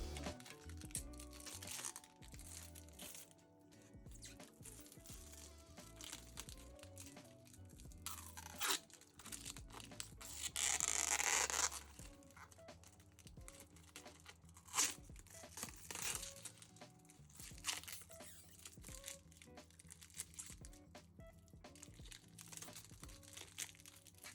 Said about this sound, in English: now to the nice part where I peel the GPU off the plastic wrap